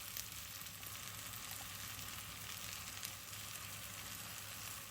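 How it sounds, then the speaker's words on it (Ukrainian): Steady, close sizzling of chopped mushrooms frying in a hot pan with onions for Transcarpathian mushroom gravy, an even hiss that runs without pause and with no talking. "Далі у сковорідку висипаємо нарізані гриби."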